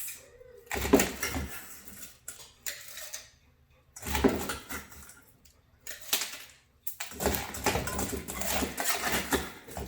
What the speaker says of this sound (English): we're going to fill our glass with some ice